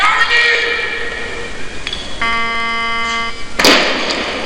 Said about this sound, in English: Down buzzer